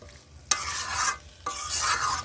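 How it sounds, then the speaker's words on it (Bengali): Chicken kosha, a Bengali spiced chicken dish, stirred and fried in a pan: two scraping stirs, each followed by a steady close sizzle. "মাংসটা আস্তে আস্তে আস্তে আস্তে মাংসটা কষিয়ে নিচ্ছি"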